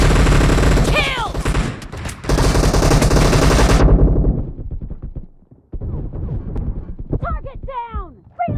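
Rapid shotgun and assault rifle fire rattles in a team deathmatch video game, dense bursts of shots giving way to shorter volleys and bright ricochet-like whistles, loud and close with game voice callouts mixed in.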